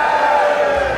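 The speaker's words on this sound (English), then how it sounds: "give me a loudest cheer possible on 3" A large outdoor crowd at the Riding of the Marches in Edinburgh roars a loud, sustained cheer on cue, a dense wash of voices filling the whole second.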